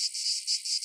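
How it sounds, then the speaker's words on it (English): Cicadas from the 2021 emergence in Ann Arbor, Michigan, drone in a high, pulsing buzz that swells and dips in rapid waves, faint and steady, alone. "cicadas may be a noise nuisance, but are harmless to humans and property"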